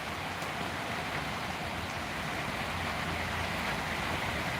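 Heavy rain pours down in Solapur as a dense, even hiss of downpour that holds at a constant level throughout, with no voices.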